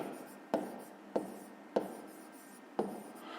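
Four separate strokes of writing out a maths solution scratch across paper at uneven intervals, each a short crisp rasp, close and quiet.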